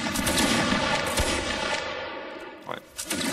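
A gunfire volley rings out in a video game battle, a dense, loud burst of overlapping shots that rolls into a sustained rumbling echo and fades, followed by a few sharper cracks.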